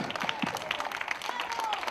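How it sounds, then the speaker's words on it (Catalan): Brief applause from a crowd at a women's five-mile road race prize ceremony for the junior athletes, light scattered clapping lasting a couple of seconds. "Fort aplaudiment per les atletes juvenils"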